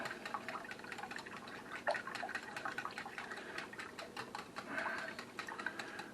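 Eggs and milk whisked together in a bowl for a zippy egg casserole, a steady run of quick clicking taps against the bowl's side, fairly faint and continuous without talk.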